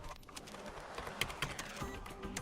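Keystrokes on a computer keyboard while entering a country or CSC code for flashing firmware on a Samsung Galaxy S10+, quick irregular clicks in a steady run at moderate loudness with no talk.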